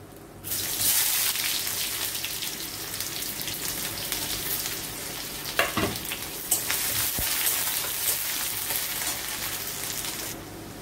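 Onions frying in hot oil in a kadai, a loud continuous hiss that swells as they go in and carries on with a couple of sharp stirring knocks midway.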